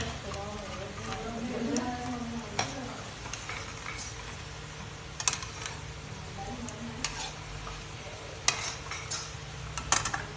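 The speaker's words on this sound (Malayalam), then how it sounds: "വടി എണ്ണയിൽ ഇട്ടു." Vadi, a homemade snack, frying in hot oil with a steady low bubbling sizzle throughout, broken by a few clinks of a utensil against the pan, with a voice talking over it.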